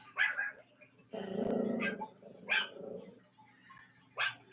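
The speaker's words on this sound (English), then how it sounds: "Are you growling at your sister?" Small dog growling at another dog indoors, a few low rumbling growls in short bursts with brief gaps, fairly close and alone without talk.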